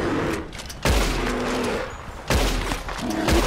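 Gunfire in Red Dead Redemption 2 during a bear hunt: three loud, close shots spaced more than a second apart, each a sharp crack followed by a rumbling echo.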